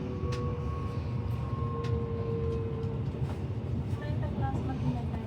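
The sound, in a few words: commuter train on Brisbane Redcliffe Peninsula Line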